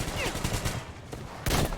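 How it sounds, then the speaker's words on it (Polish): Gunfire from the Metro Exodus video game: a burst of loud shots early on, then a second heavy blast near the end, with someone talking over parts of it. "Ale pierwszy strzał."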